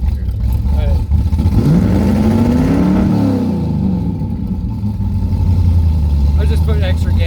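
A carbureted car engine on choke runs rough, a loud, uneven low rumble with a brief rev that rises and falls, steady close idle throughout and a voice talking over it.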